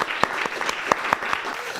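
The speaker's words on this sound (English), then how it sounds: "a huge round of applause for Michael Stewart" Applause for a lecturer on race and nation: a few distinct, fairly close hand claps spaced irregularly over a thin room background.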